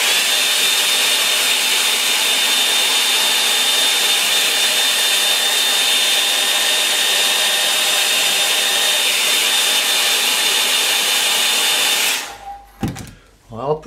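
A hair dryer blows steadily and loudly at close range over a landscape painting for about twelve seconds, then cuts off, leaving brief handling noises.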